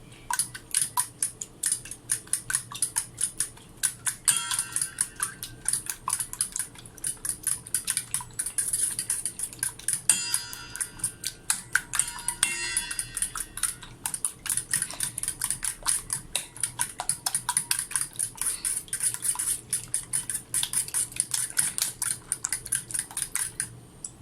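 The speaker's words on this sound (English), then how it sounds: "stir at it and make sure that the yolk mixes with the egg white" Eggs being stirred in a bowl with a utensil so the yolk blends into the white, a steady run of fast, light clicking taps continuing throughout at close range.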